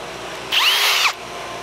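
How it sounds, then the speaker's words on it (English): Cordless battery drill whirring in one short burst of roughly half a second, fairly close and loud against a quiet room, used for a DIY job adding a battery and lights to a kayak. "You're gonna need a battery drill."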